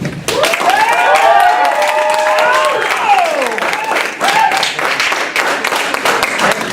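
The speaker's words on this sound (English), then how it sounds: "One more round of applause." Audience applause and cheering at a school coffee house event, loud sustained clapping mixed with whoops and shouted voices throughout.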